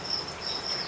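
A continuous high-pitched cricket trill buzzes in short pulsing bursts, faint, against a soft noisy background.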